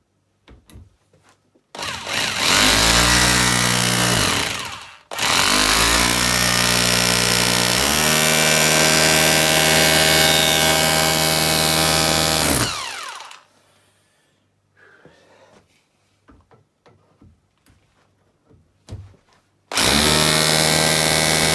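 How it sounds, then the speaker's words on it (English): A hammer drill in hammer mode bores a pilot hole into a bolt on a Ford Cortina Mk3 2000E rear axle, roaring loudly in two long bursts, pausing briefly, then faint clicks and rattles before the drill starts again. "If we turn it onto hammer, drill a little pilot in the bolt"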